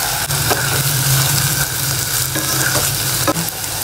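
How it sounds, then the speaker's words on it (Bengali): Ginger, cumin and green chili paste frying hard in a pan, a loud continuous sizzle with scraping spatula strokes at close range and no talking. "1 চা চামচ আদা বাটা, 1/2 চা চামচ জিরা বাটা, 1 চা চামচ কাঁচামরিচ বাটা। এটাকে আমি কষিয়ে নিব।"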